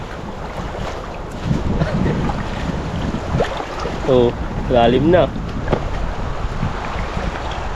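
Strong seaside wind buffeting an umbrella on a shallow rocky shore, steady rushing noise with gusts, while people talk and call out nearby.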